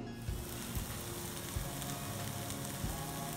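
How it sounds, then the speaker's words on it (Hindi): Tomato puree simmering in a pan with seasonings added, giving a steady close sizzle and crackle with faint stirring scrapes and no voices over it. "सो टमाटर की प्यूरी कुक हो रही है"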